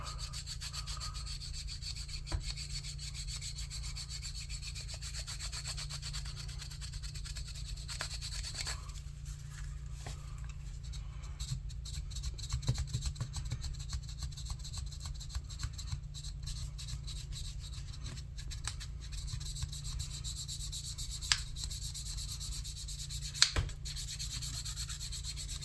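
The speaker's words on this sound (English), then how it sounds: "We're going to take our burnishing tool and" A burnishing tool rubs the edge of a leather belt sheath made for an old Japanese knife. The strokes are quiet, steady and repetitive, with occasional small ticks from the tool.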